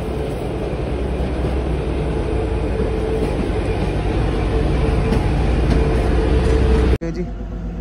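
Kalka-Shimla toy train pulling out of Jatog station, a steady loud rumble of wheels and carriage noise running close throughout before cutting off abruptly near the end.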